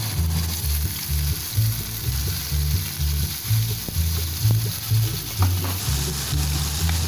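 Onion, tomato and green chilli frying in oil in a pan in a home kitchen, a steady close sizzle with stirring scrapes running throughout, no talking.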